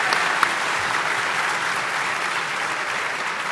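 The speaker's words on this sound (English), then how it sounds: "A little more clapping." Audience at a PAX South gaming-convention presentation applauding, a dense, steady wash of clapping from a large crowd that stays even for the whole stretch.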